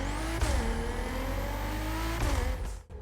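Nissan GTR-50 engine in the racing game The Crew Motorfest revs hard through rising gears, a deep whine climbing and dropping at each shift, loud and steady without any voices.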